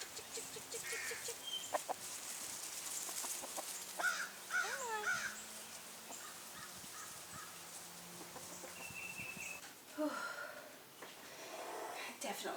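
Pet hens in a summer garden cluck and cackle in short, scattered bursts at close range, interspersed with quieter gaps.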